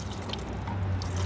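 Water runs and drips off a ceramic-coated car window, a faint, close trickle with small splashy droplets over a low, steady background.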